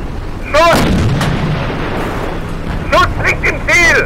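Heavy tank cannon blasts boom out in a World War II video game, one early and another about two seconds later, with a sharp rising whine and rumbling echo following each shot.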